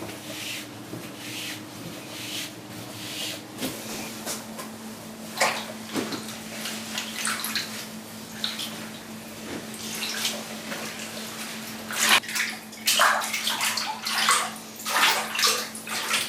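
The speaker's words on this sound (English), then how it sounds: "So I fill the bathtub until I have enough water for the whole bowl." Water runs steadily into a bathtub being filled to soak kimono fabric, a continuous close rushing pour with scattered splashes and rubbing sounds, no voices.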